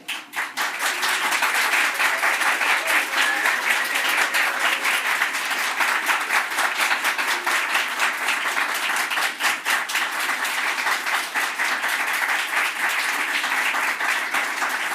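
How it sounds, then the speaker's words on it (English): At a Gold Humanism Honor Society ceremony, the audience gives honor society students a round of applause. Sustained, even clapping from a sizable crowd continues for the full fifteen seconds without a break. "I would love to ask the students to stand up, face the audience and the camera to receive a round of applause"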